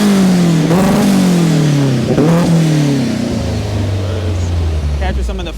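A 2006 Honda S2000 with a turbocharged K24 engine swap revs loud and close from the front of the car, its roar sweeping down in pitch as the revs fall over several seconds.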